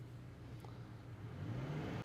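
A Subaru engine hums steadily at idle, then revs up with a rising pitch near the end, close and moderately loud.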